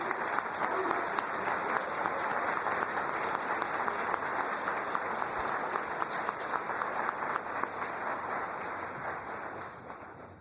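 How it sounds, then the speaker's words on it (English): Sustained audience applause fills a hall at a college nursing program pinning ceremony, steady dense clapping from many hands at full strength for the whole stretch, with no speech over it. "we can thank you one more time with a round of applause"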